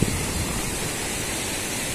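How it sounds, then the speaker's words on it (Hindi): A swollen river carrying lots of water beside a national highway makes a dense, even rushing roar, loud and continuous for a brief stretch without speech. "यहाँ से आपको दिखाता हूँ दरिया में कितना पानी है।"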